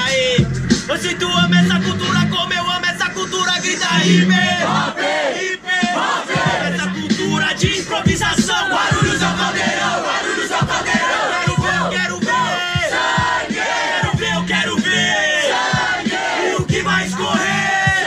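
A crowd at a rap battle chants and shouts hip hop in a loud, continuous roar of many voices with rhythmic bursts, close and dense.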